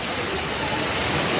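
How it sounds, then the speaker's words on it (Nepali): Rain pours steadily outside Sir M Visvesvaraya Terminal, the airport terminal in Bengaluru, heard as a brief, dense, even hiss with no distinct drops standing out. "पुरा बाहिर पानी परिरहेको छ"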